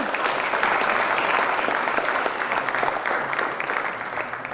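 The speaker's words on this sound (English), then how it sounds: "How about a round of applause for our new friend?" A crowd applauds for a newly introduced guest, full and loud at first, then the clapping thins and eases off slightly toward the end.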